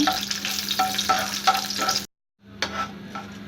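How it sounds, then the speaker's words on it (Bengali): Cardamom, cinnamon pieces and black cumin fry in oil, a close crackling sizzle with spoon clinks, cut by a brief silent gap before the frying resumes. "একটি এলাচ এবং সামান্য একটি কালো জিরা সবগুলো মিশিয়ে আমি এভাবে একটু ভেজে নেব"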